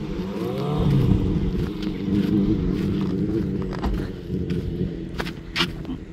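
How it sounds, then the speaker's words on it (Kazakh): Motorcycles arrive at a rural lakeside spot, a steady mid-distance engine rumble that holds for several seconds and then eases off, with no talking over it. "Мотоциклдер келип."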